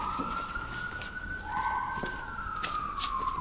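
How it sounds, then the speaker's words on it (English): A police siren wails at a distance in Riga, Latvia, its tone sliding between pitches, faint beneath street ambience. "The police siren."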